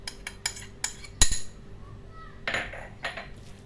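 A spoon works through kofta mince mixed with vegetables, chopped coriander, parsley and sliced green olives in a pan, giving scattered metallic clinks and scrapes at an uneven pace, close and fairly quiet.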